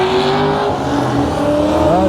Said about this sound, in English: he's drifting it around the corners there